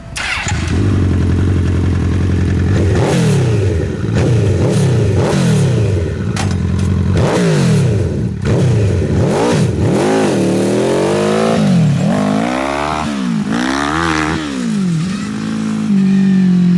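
An off-road buggy with a CBR 1000 engine idles loudly close by, then revs repeatedly in rising and falling sweeps as it pulls away and accelerates, with no talk.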